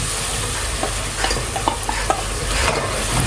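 Ginger-garlic paste and masala frying in a pan for a chickpea and bottle gourd curry, giving a steady, dense sizzle with light stirring taps scattered through it, close and continuous.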